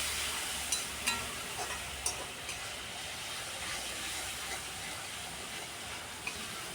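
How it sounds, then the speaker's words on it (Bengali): Water poured into a pan of frying spices and tomato, producing a loud steady hiss of steam with a few light taps from stirring. "সামান্য জল দিয়ে দিচ্ছি।"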